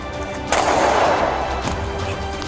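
Gunfire erupts during a police shooting after a high-speed pursuit, a sudden loud crack followed by a dense, sustained burst of noise and a second sharp report about a second later.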